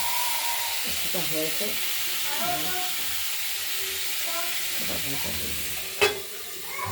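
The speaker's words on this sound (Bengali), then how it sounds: "আলু শিমগুলোকে আমরা ভেজে নিচ্ছি" Potatoes and flat beans frying in a pan, a steady hiss and sizzle with stirring scrapes and one sharp clink near the end, while someone talks over it.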